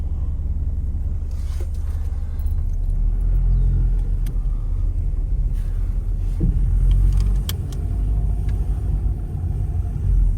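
Mazda car with transmission problems driving after being put into drive, a steady low engine rumble with small shifts in tone as it moves, heard close from inside the cabin with no talking.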